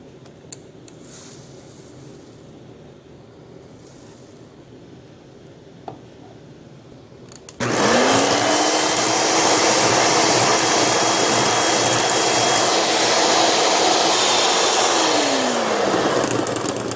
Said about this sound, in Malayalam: ഈ എഗ് യോക്ക് നന്നായി ഒന്ന് ബീറ്റ് ചെയ്തെടുക്കാം ഇതിലേക്ക് ഇനി മൂന്ന് ടേബിൾ സ്പൂൺ പഞ്ചസാര ചേർക്കാം